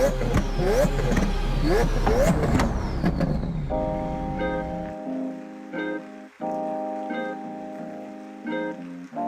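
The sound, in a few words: 2014 Chevrolet Silverado High Country 5.3 engine on dyno pull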